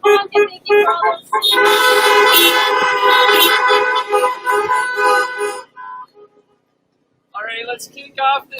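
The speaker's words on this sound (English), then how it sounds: "So give a big honk and thank you for all those." Many car horns honking together at an outdoor drive-in church service, a loud sustained chorus of overlapping toots that thins out and stops, then a few more honks.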